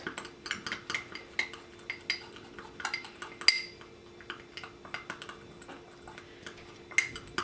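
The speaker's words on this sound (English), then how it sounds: "Go ahead and stir." A spoon stirring a moringa powder face mask mixed with water in a small bowl, making a string of quick, irregular clinks and taps against the bowl, close and clear with no voices.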